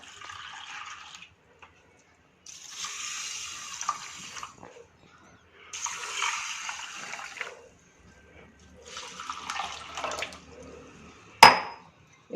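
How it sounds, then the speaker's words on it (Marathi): Water is poured over washed pulses in a vessel to soak them, coming in several separate bursts of splashing with short quiet gaps between, ending with a sharp knock. "आपण आता हे बुडतील इतकं पाणी घालूया."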